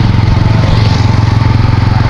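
A motorcycle engine idles or runs steadily close up on a roadside, a loud, even pulsing throb with a strong low hum and rapid regular beats, no talk over it.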